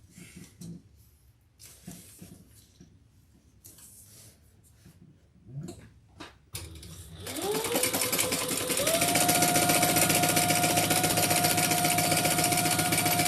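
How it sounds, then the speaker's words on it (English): A sewing machine top-stitches a crossbody handbag, starting after a few quiet handling noises and then running as a loud, steady, continuous motor whir with rapid needle chatter to the end. "let's top stitch on either side"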